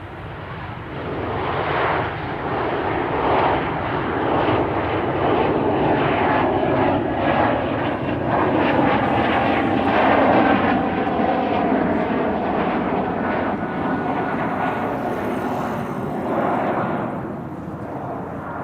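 A jet airliner takes off at Amsterdam Schiphol Airport, its engine roar swelling into a loud, broad rumble that holds steady for many seconds before easing slightly as it climbs away, with no voices.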